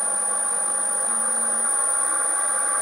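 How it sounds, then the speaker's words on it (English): Steady mechanical whine of a CNC router spindle motor spinning slowly at about 450 RPM, with a constant high-pitched tone and faint low hum, running continuously with no voices. "With the inverter you can control the spindle speed so it won't go any slower than 450 revs per minute"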